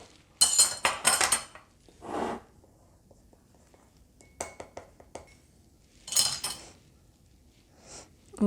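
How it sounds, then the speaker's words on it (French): Two oils being stirred together with a pinch of turmeric in a small dish, heard as sharp intermittent clinks and scrapes of a utensil against the dish, separated by quiet pauses. "je mélange mes deux huiles et je rajoute une petite pointe de curcuma pour la couleur jaune"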